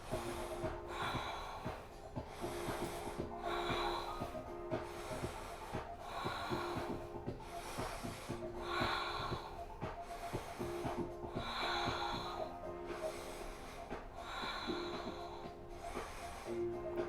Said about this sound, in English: take 5 deep breaths here